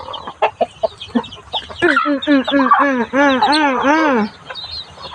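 A chicken clucks close up, a few short clucks followed by a run of loud, drawn-out squawking calls, then quiet.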